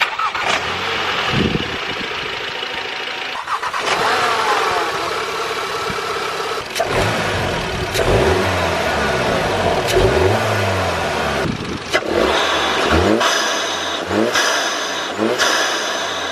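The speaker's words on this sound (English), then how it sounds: "we're gonna test the stock intake versus the Ram air filter, starting up and also revving" A Volkswagen Scirocco engine with a Ram air intake cranks and catches, then idles and revs repeatedly in several loud bursts, with a short pause before it starts up and revs again.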